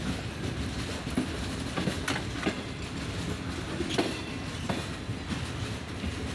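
A train rumbles at the Kotri Junction railway station platform, its continuous rolling roar carrying rhythmic clickety-clack wheel knocks and brief metallic squeals, loud and close, with no speech.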